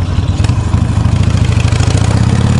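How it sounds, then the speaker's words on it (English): A motorcycle idles loud and close with a blown exhaust crossover gasket, putting out a rapid, uneven low throb and a ticking, puffing leak pulsing through every firing stroke, with no talk over it. "I blew my exhaust crossover gasket on this ride"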